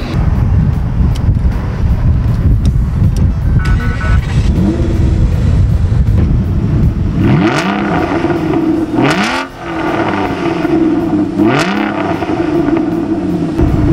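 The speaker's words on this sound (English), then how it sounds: "you want to hear what the exhaust sound like?" A V12 car exhaust roars loud and close, first a sustained heavy drone, then three sharp revs that each climb and fall back, with some wind buffeting on the microphone.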